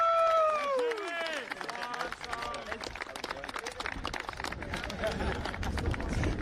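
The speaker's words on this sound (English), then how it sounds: "Well-deserved applause." A crowd at the LIBERTY Challenge Cup rugby match award applauds, a steady patter of many hands clapping beneath excited voices and cheering, with a whistle-like squeal at the start.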